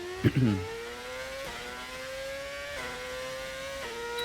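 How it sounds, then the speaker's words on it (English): Race car engine with engine mods in an F1 video game, a steady high whine climbing through gears with brief shift breaks, after a short thump at the start. "How does my car sound? So good. We're using engine mods."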